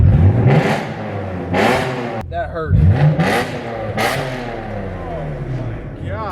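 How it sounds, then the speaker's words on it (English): A straight-piped BMW M5 with a Formula One derived V10 revs in sharp, high-pitched bursts, several rising blips with gaps between them, loud and close, while people talk over the engine. "Formula One derived BMW M motor that everybody just loves because the sound is just so high pitched."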